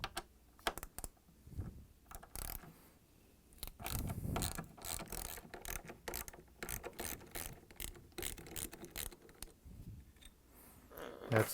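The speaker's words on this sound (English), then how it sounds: "And now we are going to take this 3 10mm screws out to free the top hinge. I'm using a 10mm socket wrench." A 10mm socket wrench ratchets out hinge screws on the top hinge of a Samsung refrigerator door, giving a run of quiet, close, rapid clicking bursts with brief pauses between turns.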